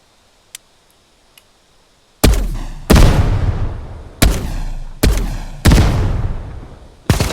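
A fighter jet fires rockets in the video game Brickadia: after a quiet start with two faint ticks, six loud, booming blasts hit in quick succession, each ringing out and decaying before the next, with no talking.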